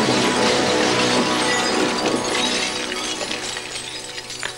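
Fiberglass sculptures falling and smashing apart as a staged movie effect, a loud shattering crash with scattered debris rattling and tapering off over several seconds.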